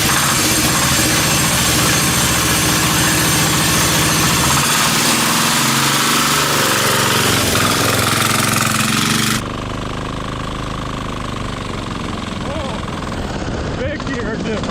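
A turbocharged 10HP diesel go-kart engine runs hard and loud with a dense, rapid knocking chatter, then drops abruptly to a lower, rougher running note, with people talking nearby.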